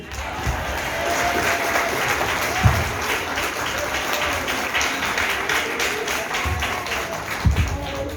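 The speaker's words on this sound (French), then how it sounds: "On va applaudir le Seigneur pour le message de la parole de Dieu" A church congregation applauding the Lord, sustained clapping from a crowd with a few louder thumps and scattered voices mixed in.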